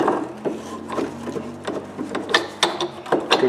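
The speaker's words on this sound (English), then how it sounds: "Put this inch and a half pipe on the handle of this 18 inch pipe wrench" An 18-inch pipe wrench with an inch-and-a-half pipe extension on its handle is cranked against a corroded old pipe, giving repeated scraping, creaking metal strains and sharp clicks in uneven bursts, close and fairly loud with no talk.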